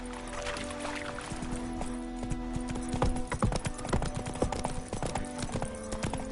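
Roach, a horse, gallops over ground with rapid, rhythmic clip-clopping hooves, loud and close, growing heavier midway, set against a low tonal backdrop.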